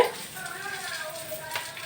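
Sliced onions sauté in a pan with ginger-garlic paste, giving a soft, steady sizzle and faint stirring scrapes while a person talks over the cooking.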